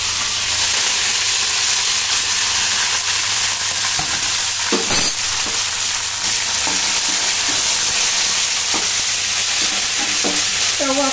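Chopped coriander dropped into hot oil tempering for spicy red chutney, a loud continuous close-up sizzle and fry hiss with occasional crackles and a utensil clink, no voices.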